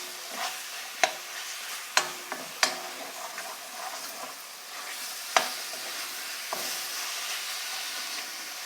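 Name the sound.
tomatoes added and frying for goat head curry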